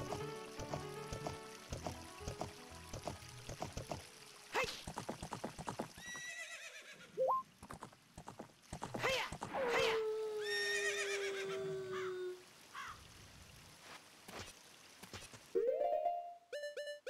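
A horse whinnies and neighs in The Legend of Zelda: Ocarina of Time, with clip-clop hoofbeats, scattered game effects and rising tones between calls, all fairly quiet with no talking.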